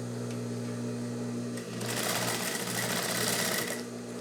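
A sewing machine stitches a handbag seam. A low steady hum gives way to a loud, fast run of stitching lasting about two seconds, which then settles back to the hum.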